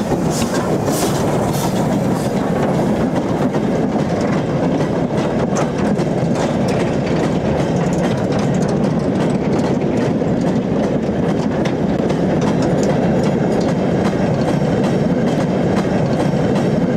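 British Railways Standard Class 9F steam locomotive passing with a train, a loud continuous roar and rumble with rhythmic wheel clatter throughout, no voices.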